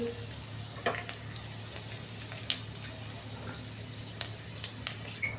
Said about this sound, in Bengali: কাঁকড়েলটা আমি ভেজে নিচ্ছি